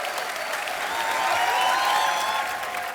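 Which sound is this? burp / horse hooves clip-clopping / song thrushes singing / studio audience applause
studio audience applause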